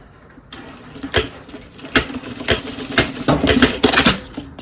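A sewing machine stitches a zipper closed on a credit card coin pouch in short bursts, its needle clattering rapidly with sharp mechanical ticks, close by and fairly loud.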